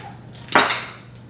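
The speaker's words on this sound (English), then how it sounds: "I'm gonna add that in there. I'm gonna mix it all up." A short clatter of a utensil against a bowl while chopped strawberries are mixed into an oil-free vegan cake batter, one brief loud scrape amid quiet room tone.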